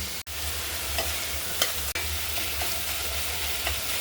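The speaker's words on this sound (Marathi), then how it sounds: "आता याच्यामध्ये घालून कट केलेलं टोमॅटो आपल्याला छान मऊ होईपर्यंत शिजवून घ्यायचं" Chopped tomatoes with salt frying in a pan for pav bhaji, a steady broadband sizzle with a few soft spoon-stirring knocks, close and continuous with no talking.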